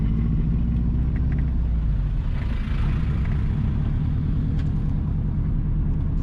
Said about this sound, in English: We are now driving on the Fairy Hill to Nonsuch Road